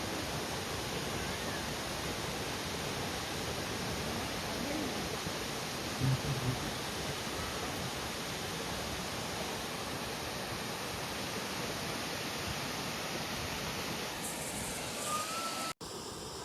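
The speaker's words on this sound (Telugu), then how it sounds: "సో ఇదే మన ఎత్తిపోతల వాటర్ ఫాల్స్." Ethipothala waterfall pours in a constant, broad roar of rushing water, steady and full from start to finish, with a brief faint thump near the middle and an abrupt cutoff at the end.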